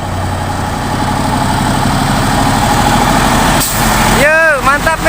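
A Nissan diesel truck carrying an excavator idles with a steady low rumble, then gives a sharp hiss of air brakes near the end, with people talking over the engine.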